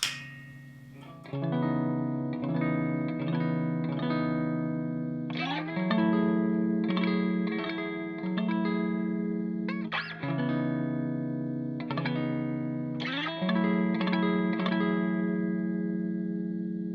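A low, twangy Bass VI six-string bass on the bridge pickup with the strangle switch engaged plays a repeated riff of plucked notes and chords, bright and slightly distorted with chorus-like shimmer.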